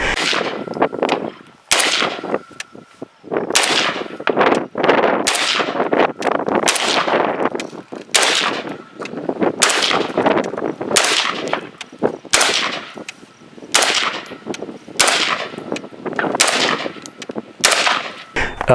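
A KelTec SU16c gas-piston carbine is fired in a long string of sharp, loud shots at an irregular, fairly rapid pace, about a dozen across the stretch, each with a short ringing tail.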